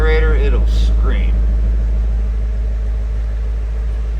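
A 2017 Ford Mustang GT V8 in Grabber Blue rumbling at idle, a deep, steady low burble from the exhaust that holds loud and close while a voice talks briefly at the start.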